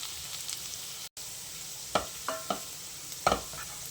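Ginger and garlic fry in oil in a pan with a steady sizzle, with a few sharp clinks and scrapes of a spoon stirring near the end.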